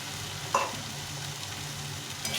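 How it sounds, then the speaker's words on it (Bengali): Boiled soybean chunks sautéing with vegetable masala in a pan, giving a soft, low sizzle with a brief scrape of stirring near the start; quiet and steady, no voices. "এটার সঙ্গে ভালো করে কষিয়ে নেব"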